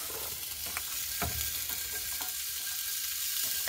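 Smoked sausage fajita filling fries in a pan over a campfire, giving a steady, close sizzle with a few brief stirring clatters and no voices.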